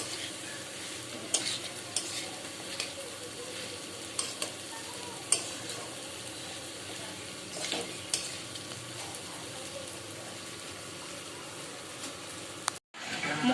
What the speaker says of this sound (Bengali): আর উচ্ছেটা এখানে ভেজে রেখে দিয়েছি, টমেটোটা দিয়ে দেবো